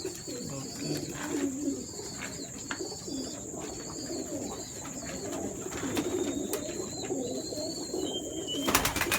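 Pigeons of Teddy and Ferozpuri mixed breeds coo repeatedly in soft, low throaty phrases, with a steady high whistle-like tone and scattered chirps running above them, ending in a short louder rustle.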